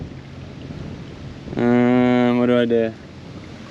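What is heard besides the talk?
wind while shore fishing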